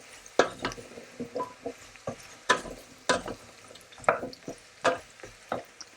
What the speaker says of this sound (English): Okay, stir that in.